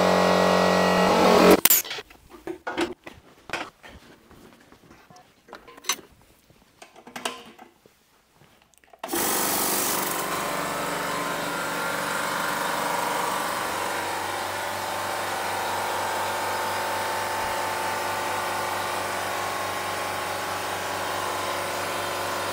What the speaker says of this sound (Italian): Questo era il rumore del compressore